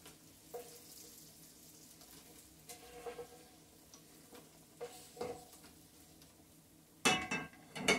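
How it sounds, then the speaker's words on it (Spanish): Chilaquiles verdes frying in a pan, with a soft steady sizzle and scattered stirring scrapes and clatters, ending in a louder burst of clanking and sizzling near the end; no talk. "Y ahorita ya nada más voy a freír estas y ya van a estar listas estos chilaquiles"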